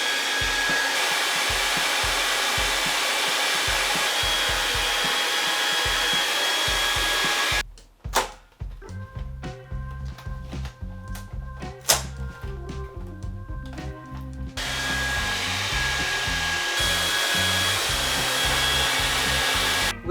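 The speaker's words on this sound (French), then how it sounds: "Apparemment il va falloir que je sèche au sèche-cheveux." A hair dryer blows steadily at close range, a loud rushing whoosh that is switched off partway, leaving a gap with clicks and handling noises, then roars back on until the end.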